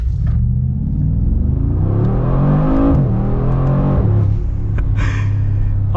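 The engine of a custom Mercedes G 63 G Wagon climbs and drops through manual gear shifts, its deep growl sweeping up in pitch and falling back with each change, loud and close.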